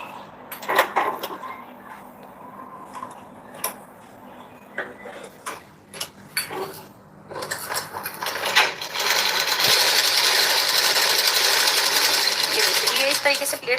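A sewing machine stitches pleats on a blouse, sewing the lining and main fabric together. The motor runs in short start-stop bursts at first, then settles into a loud, steady run, with some speech mixed in.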